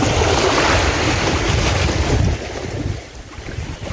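Loud rushing sea water and wind noise at Bangay Bangay Beach, Salay, Misamis Oriental, a dense wash of flowing surf that eases slightly partway through, with no talking.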